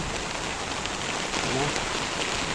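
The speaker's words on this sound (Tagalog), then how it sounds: "patuloy pa rin ang pag-ulan, malakas, may kasamang hangin" Steady, heavy rain roars close by as a dense broadband wash, with gusty surges of wind mixed in, during Typhoon Carina.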